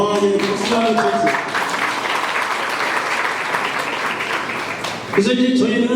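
Audience applause at a Korean business agreement and naming ceremony for a designer village in Gyeonggi, a dense, steady burst of clapping from a full room that fades just before the end, with brief speech at the start and finish.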